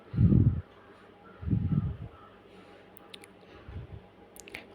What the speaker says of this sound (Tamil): அந்த ஒரு கப் மைதாவை கொஞ்சம் கொஞ்சமாக தண்ணி சேர்த்து நம்ம நல்லா கலந்துக்கலாம்